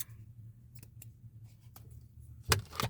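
Scissors snip through craft paper at a crafting table: a sharp, close burst of cutting near the end after quiet handling rustles, with no talk.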